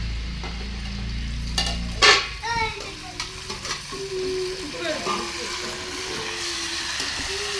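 Vegetables sauté in a home kitchen pan, with a loud burst of scraping and clattering stirring followed by lighter intermittent stirs over a low sizzle, while voices talk nearby.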